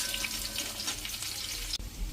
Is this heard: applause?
no